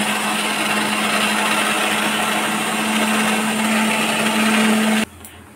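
A mixer grinder whirs loud and steady, grinding garlic, green chillies and kalonji seeds into a fine paste, a high motor drone that cuts off abruptly near the end.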